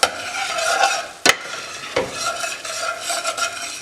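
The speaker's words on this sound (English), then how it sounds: "Give that a bit of a stir." Coriander, cumin and Kashmiri chili powder fry in a pan for chicken tikka masala, a close crackling sizzle broken by two sharp spoon knocks against the pan.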